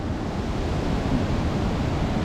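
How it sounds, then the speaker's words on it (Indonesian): A steady, dense roar of a waterfall at Curug Tilu Leuwi Opat fills the space without pause, loud and close, with no voices. "Kalau ini beneran ya kayak curug gitu, kayak air terjun jatuh."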